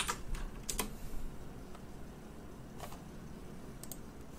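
Typing on a computer keyboard: a few scattered keystroke clicks, fairly faint, come in small bursts over a steady background hiss.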